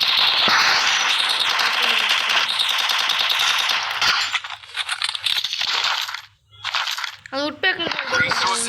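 Rapid gunfire fills a Free Fire mobile battle game, a loud dense burst of automatic shots over several seconds, followed by scattered effects and pickup chimes as the action thins out.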